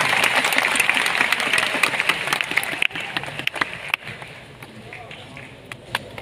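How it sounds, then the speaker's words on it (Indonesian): Crowd applause at an Islamic boarding school event, loud and continuous at first, then thinning out and fading to a few scattered claps, with voices over it. "tepuk tangan dulu semua untuk semua yang di sini"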